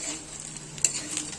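Fried pasta being stirred in a kadai, with soft scraping and faint sizzle close by and one brief clink of a utensil partway through.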